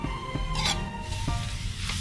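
Milkfish relleno filling of flaked bangus is stirred in a pan, making a steady soft sizzle with several scraping strokes of the spoon against the metal, close and without talk.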